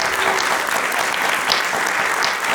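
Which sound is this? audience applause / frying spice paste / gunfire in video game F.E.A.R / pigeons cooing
audience applause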